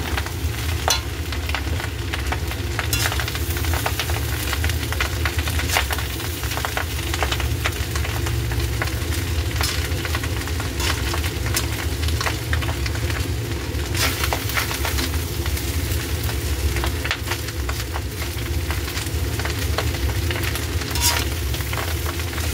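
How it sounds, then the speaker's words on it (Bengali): Spices fry in oil in a pan while being stirred, making a continuous close sizzle with repeated scraping strokes from the stirring. "ভালো করে মেশাতে হবে, মেশানোটাই হচ্ছে আসল কাজ।"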